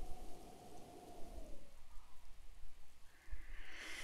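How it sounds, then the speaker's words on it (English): Steady rain falls in Zelda: Breath of the Wild, a continuous soft hiss that stays fairly quiet throughout, with a low rumble under the first half and a brighter hiss rising near the end. "At least not while it's raining."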